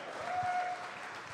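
Audience applause for a sectional-qualifying girls volleyball team, a short steady burst of clapping filling the room at moderate loudness.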